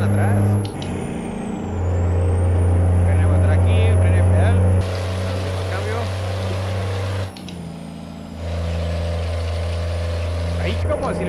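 A 517-horsepower truck engine in American Truck Simulator, racing with a loud, steady low drone that surges and shifts pitch as gears change, with a high whistle riding on top and a brief dip before it revs up again.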